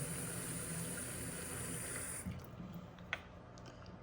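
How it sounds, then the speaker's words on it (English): Water poured into the mop tank of a Tikom G8000 robot vacuum, a steady trickling fill that stops partway through, followed by quieter handling clicks and a single small knock. "Put some water in there."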